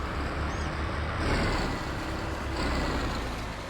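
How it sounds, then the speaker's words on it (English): A steady low engine rumble of a tractor in the video game Farming Simulator 22 runs throughout, droning evenly with slight swells and no talking. "This tractor sounds awesome."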